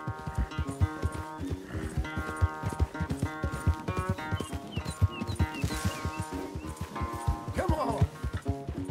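Horse hooves clip-clop in a steady rhythm in Red Dead Redemption 2, with a horse snorting and whinnying close by over western game ambience and music.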